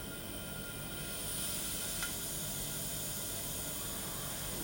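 Air rushes back into a vacuum chamber holding a mercury column test tube, making a faint, even hiss that holds steady and swells slightly partway through, alone without speech.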